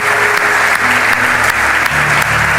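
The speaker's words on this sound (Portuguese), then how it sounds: "Dê um aplauso ao Senhor Jesus." A church congregation applauds, loud dense clapping that fills the whole stretch without letting up.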